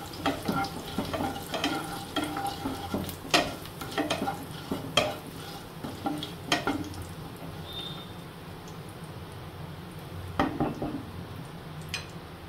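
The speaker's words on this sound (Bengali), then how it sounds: "আমি এবার একটু গরম মশলা, এলাচ, দারচিনি আর একটু সাদা জিরে ফোড়নে দিলাম। এটাকে পুরো একটু ভাজা ভাজা করে নেব।" Whole garam masala, cardamom, cinnamon and cumin seeds frying in hot mustard oil, a steady close sizzle broken by repeated scrapes and stirs of a utensil against the pan, with no talk.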